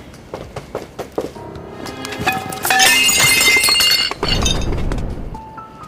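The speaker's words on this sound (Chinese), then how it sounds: "上来就拿盘子扔我，这人家店里的" A ceramic plate is thrown in a restaurant and smashes, heard as scattered clinks and clatter that build into a loud, bright shattering crash, followed by a low thud and fading rattle.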